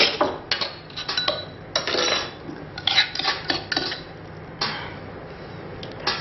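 Garlic being scraped down inside a mortar after pounding, a series of short, bright scraping and clinking strokes in irregular bursts, close and fairly loud with no talking.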